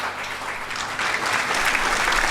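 An audience at an entrepreneurship summit applauds. The clapping is steady and grows a little louder partway through, with no speech over it.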